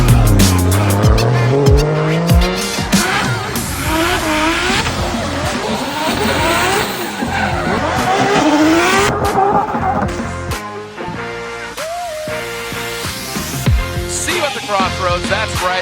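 Formula Drift race cars drifting at World Wide Technology Raceway in St. Louis, with loud sustained tire squeal sweeping up and down over roaring, revving engines, close and continuous throughout, with crowd and track ambience behind.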